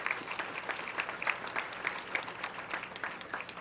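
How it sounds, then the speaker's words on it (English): An awards ceremony audience for fire, police and deputy sheriff honorees claps steadily, a dense, even patter of many hands heard from within the room, with no voices over it. "So please, round of applause."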